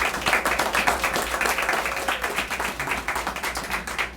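A round of applause for the employees at an animal village expansion ribbon-cutting ceremony, a modest crowd clapping with distinct individual claps audible in a brisk, uneven rhythm.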